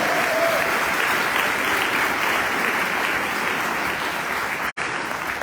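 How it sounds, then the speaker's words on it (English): An audience at the Hawaiian slack key guitar festival on Kaua'i gives steady, dense applause that holds at an even level throughout, with a brief dropout near the end. "another nice round of applause"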